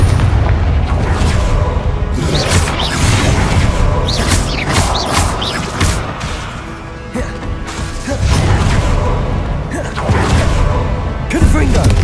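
Repeated Confringo blasting spell explosions in Hogwarts Legacy hit loud and close as booming, crashing bursts mixed with whooshes. The blasts come in several waves with a brief quieter gap in the middle.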